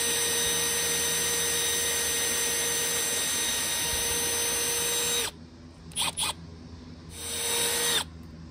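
A power drill whines loudly and steadily for several seconds drilling through aluminum, then stops, followed by a few short bursts and one more brief run.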